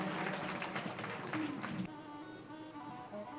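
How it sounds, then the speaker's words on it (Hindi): An audience at a Shrimad Bhagavat Katha religious gathering in Indore breaks into applause, a faint, diffuse burst of clapping with a few sharper claps that drops off abruptly partway through, leaving a softer murmuring hall. "एक बार जोरदार तालियों के साथ में इनका बहुत बहुत धन्यवाद है"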